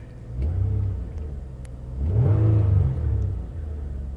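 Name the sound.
2005 Nissan Maxima engine revving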